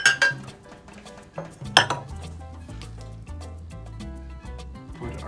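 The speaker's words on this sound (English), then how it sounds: "I'm gonna put our stir bar in here." A stir bar drops into a glass flask for a PBS solution, giving a couple of bright glassy clinks and rattles up front, followed by softer clinking and knocking against the glass.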